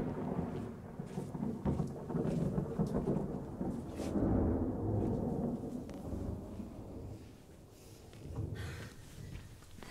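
Thunderstorm effect in an audio drama: deep rolling thunder rumbles and swells continuously over steady rain hiss, with sharper cracks scattered throughout, loud and enveloping, no voices.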